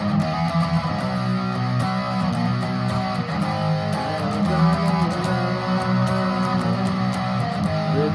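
Distorted electric guitar plays a riff in a steady, dense, continuous run of chugging notes at even loudness.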